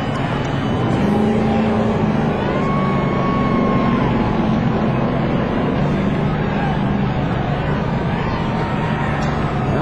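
Race cars roaring around the track on the final lap of the 2004 Checker Auto Parts 500, a continuous dense engine drone with overlapping pitch sweeps from passing cars, loud and constant throughout.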